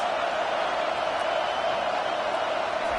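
Stadium crowd at a Trojans vs Hawkeyes football game, a steady loud roar of many voices filling the air without letup, with no distinct cheer peaks.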